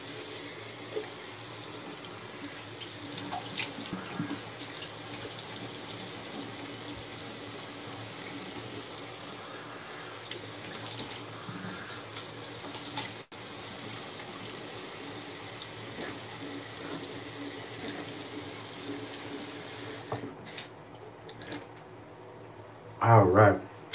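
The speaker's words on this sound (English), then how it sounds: "let me rinse off this alum." A water tap runs steadily into a sink while an alum block is rinsed after a shave, a continuous close hiss and splash lasting most of the stretch before shutting off, with faint talk under it.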